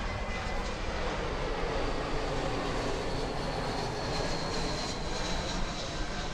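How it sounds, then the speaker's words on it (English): A Spirit Airlines jet airliner passing overhead during an outdoor soccer match, a broad steady engine roar that fills the whole stretch at fairly loud level with no talk. "Plane belonging to Spirit Airlines just flew ahead"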